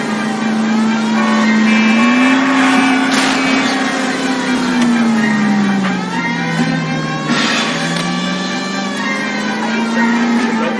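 A car speeds along in L.A. Noire, its engine note rising and falling steadily through the whole stretch, loud and close, mixed with game ambience.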